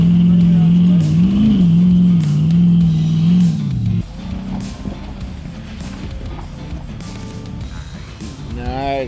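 A Jeep at Windrock crawls its tires up slick rocks with a steady loud engine drone that shifts pitch, then drops to a rougher rumble of tires and drivetrain. Faint voices mix in underneath.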